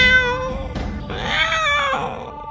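A person imitates a cat meowing in a Hindi cartoon story, a drawn-out, whiny, pitch-bending cry that rises and falls over a couple of seconds, loud and close with no other talk.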